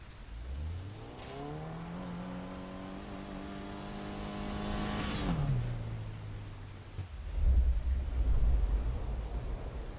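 A car in the Need for Speed video game drives into the garage, its engine revving steadily and rising in pitch before dropping and cutting off, followed by a deep low rumble of the garage door or idling.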